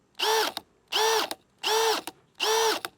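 A cordless drill revs up at high speed four times in a row, each whine cut off sharply as the trigger is released, loud and close with short pauses between bursts.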